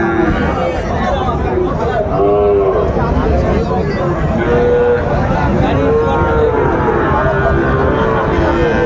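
Several Sahiwal cattle moo repeatedly at a cattle market in Sirajganj, long low calls rising and falling over a loud, busy crowd with people talking throughout.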